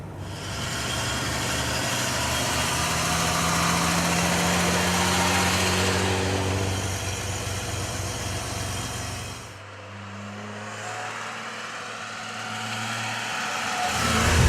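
Mercedes-Benz 300 SL engine running while driving through the Californian hills, a steady loud engine drone with a low hum that dips briefly near the middle and then swells again toward the end.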